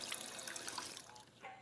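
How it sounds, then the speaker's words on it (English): Running sink water in Fallout 4, a continuous trickling, splashing stream of moderate loudness that tapers off near the end, with no voices. "I just drink that sink water?"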